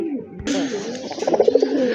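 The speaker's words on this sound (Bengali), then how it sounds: "খুবই সুন্দর এক জোড়া মুখী কবুতর" Pair of large fancy mukhi pigeons cooing close by, a short run of soft throaty coos rising and pulsing toward the end over a hushed background.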